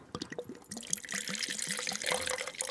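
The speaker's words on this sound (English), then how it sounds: "We'll pour you some Pinot Noir." Pinot Noir poured into a glass in a Willamette Valley winery tasting room, a close, quiet trickling stream with rhythmic glugging pulses that continue steadily throughout.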